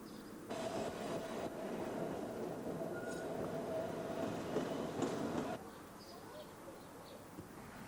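Heritage tram running at a tramway museum, a steady rolling rumble with a faint wheel squeal, passing for about five seconds before fading, with birds faintly around it.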